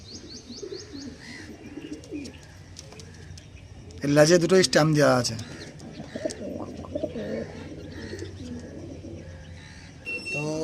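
Pilanka pigeons, an Andhra top-quality pair shown for sale, coo softly nearby with a few chirps. Someone talks over them throughout, and a louder burst of sound stands out midway.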